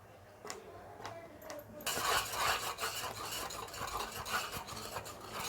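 Stirring mango barfi mixture with milk powder in a pan, a continuous gritty scraping and swirling that starts abruptly after a few faint taps and carries on steadily, close up.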